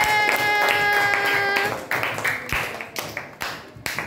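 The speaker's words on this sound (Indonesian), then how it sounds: "tepuk tangan untuk kita semuanya" A classroom of pupils claps together after a letter-writing lesson, a burst of loose clapping over a sustained musical tone, then separate sharp claps trailing off.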